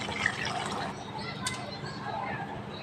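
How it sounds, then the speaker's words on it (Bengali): Water is poured into a pot of chicken curry with gondhoraj lemon leaves to make the gravy, a soft splashing fill and dripping under a quiet voice. "এবার এখানে ঝোলের জন্য জল দিয়ে দেবো"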